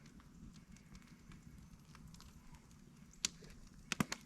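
Campfire at a winter truck camp crackling steadily and quietly, with a few sharper pops and snaps standing out near the end.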